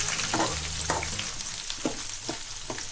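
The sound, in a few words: chopped onions frying in a pan until golden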